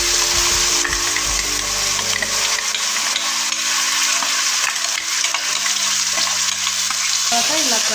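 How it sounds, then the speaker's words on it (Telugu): A spice paste for Andhra-style fish curry fries loudly in hot oil, a steady dense sizzle with stirring scrapes and a low hum continuing throughout. "ఇలా కలర్ వచ్చాక ఈ పేస్ట్ ఇందులో వేసేయాలండి."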